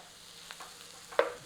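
Mushrooms cooking in a pan for a mushroom Madras curry, a faint low sizzle with a few light stirring clicks and a sharper scrape toward the end.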